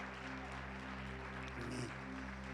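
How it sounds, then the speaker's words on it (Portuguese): Church congregation applauding to welcome a pastor at a Wednesday worship service, a steady dense wash of clapping held at an even level throughout, with a faint musical tone sustained underneath. "Vamos recebê-lo com uma salva de palmas."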